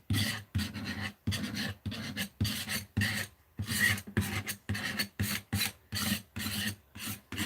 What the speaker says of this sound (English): Sorry for the scrapey sound.